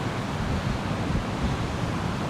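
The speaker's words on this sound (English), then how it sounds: "those waves are tricky, and you see it's like very, very chaotic in there" Chaotic ocean waves break and churn on a beach in Da Nang during rainy weather, a steady broadband roar of surf with constant wash and no distinct individual crashes.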